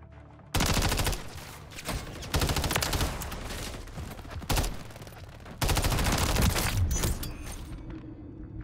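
Rapid automatic fire from an MTZ 556 rifle in Modern Warfare 3, loud, close bursts of dense shots separated by short pauses, running for several seconds with no talk over them.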